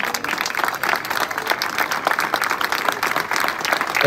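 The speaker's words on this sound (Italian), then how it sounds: "ancora un applauso" Outdoor audience applause at the Targa Florio rally podium ceremony in Piazza Duomo, a steady, dense wash of clapping sustained throughout at moderate loudness with no speech.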